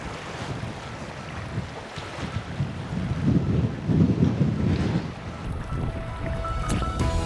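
Wind gusting across open water at Bonaly Reservoir, a steady broadband rush with microphone buffeting that swells toward the middle and holds loud to the end, with no voices.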